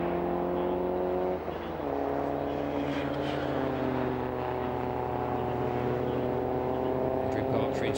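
BMW race cars at Lydden Hill race track hold a loud, sustained engine drone with shifting pitch as they pass, while a commentator talks over the top.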